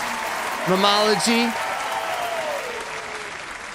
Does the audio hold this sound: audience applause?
yes